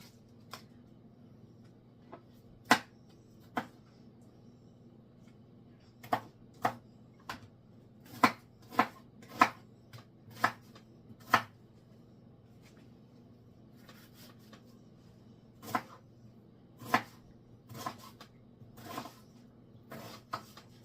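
A knife chops onion into cubes with sparse, irregular sharp taps that come in short clusters over a low, steady background hum, close and fairly crisp.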